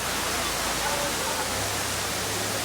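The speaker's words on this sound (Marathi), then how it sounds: "आणि हा सेकंड वॉटरफॉल आहे, बघू शकता" Heavy rain and the second waterfall at Tamhini Ghat blend into a dense, steady roar of rushing water, unbroken and fairly loud throughout.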